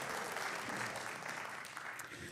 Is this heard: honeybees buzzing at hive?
no